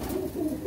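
A pigeon coos in one low, soft, throaty murmur, close and steady through a short moment, with no talk over it.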